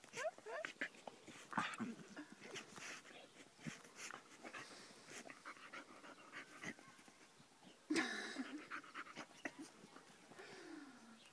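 A dog pants and snuffles close by in quick, uneven breaths, with small whimpers and a sharp bump partway through; a person speaks faintly in the background.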